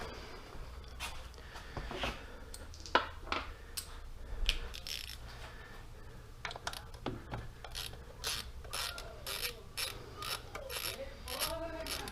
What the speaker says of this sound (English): Using a 10mm socket, remove the forward most bolt of the front driver's side spark plug coil.